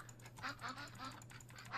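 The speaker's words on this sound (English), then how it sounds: "Chinese goose." A Chinese goose from a Minecraft Bedrock wings addon gives a run of repeated nasal honks in a steady rhythm, fairly close and moderately loud, with a low steady hum underneath.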